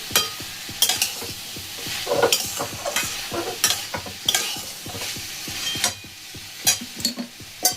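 A spoon scrapes and stirs food around a frying pan in quick, repeated strokes, knocking against the metal over a soft sizzle, close and without voices.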